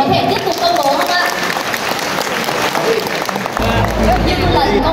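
A loud crowd at a Vinhomes apartment sales event for The Canopy Residences in Vinhomes Smart City claps and stirs as a sustained wash of applause, with voices and a booming amplified hall behind it.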